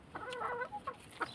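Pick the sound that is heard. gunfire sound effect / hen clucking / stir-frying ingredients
hen clucking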